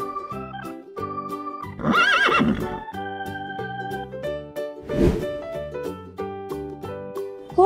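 Two loud horse whinnies ring out over gentle background music, one early and one midway.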